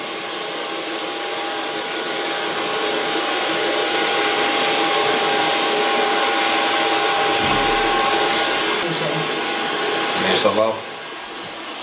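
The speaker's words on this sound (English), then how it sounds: "So far blow drying." A hair dryer blows steadily and loudly while short hair is blow-dried, a continuous rushing airflow for several seconds that cuts off near the end, with a brief voice.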